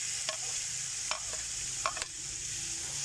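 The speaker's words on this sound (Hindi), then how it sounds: "कद्दूकस किया हुआ प्याज डाल देते हैं और इसकी भुनाई कर लेते हैं" Grated onion frying with chicken liver in a pan for kaleji masala. A constant hiss of sizzling oil runs throughout, with a few close spoon scrapes as the mixture is stirred.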